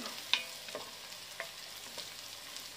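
Garlic and ginger frying in a pan, a soft steady sizzle broken by a few light clinks and scrapes of stirring, fairly faint and with no voices.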